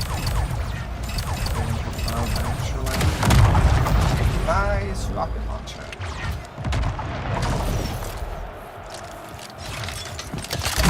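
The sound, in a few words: rocket launcher blast in Splitgate video game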